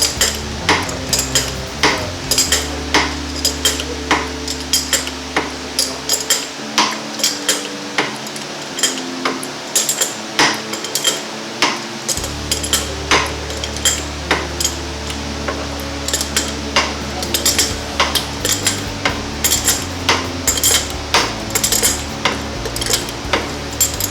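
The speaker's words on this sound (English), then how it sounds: "Pull that bearing right out." A cam bearing is pulled out of a Harley Twin Cam engine with a puller tool: a steady run of close metallic ticks and clicks over a low mechanical hum, with no talking.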